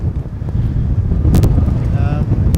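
Strong wind roars steadily across a microphone beside an airport runway, a dense low rumble with gusty buffeting and a few brief higher bursts.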